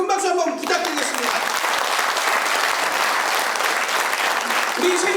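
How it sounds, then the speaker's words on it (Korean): Loud, dense applause from a large audience at a city council event in Sejong, sustained clapping filling the room throughout, with a voice briefly at the start. "수고해 주신 우리 시장님과 의원님들께 다시 한번 큰 박수 한번 부탁드리겠습니다"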